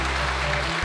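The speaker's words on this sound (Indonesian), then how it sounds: "Tepuk tangan lebih semangat lagi untuk Muslim." A TV studio audience at a Quran memorisation contest applauds, a brief, dense, loud burst of clapping.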